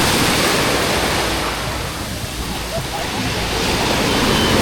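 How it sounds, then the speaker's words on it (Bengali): Roaring sea waves breaking on a beach in Lebanon with strong currents, a loud, continuous wash of surf rising and falling slightly, with a voice talking underneath. "সাগরে প্রচুর গর্জন"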